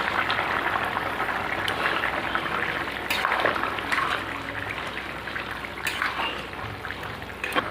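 Prawns dropped into a simmering green jackfruit and prawn curry in a pan, giving a steady close bubbling and hissing sizzle with a few sharper spurts, and no voices.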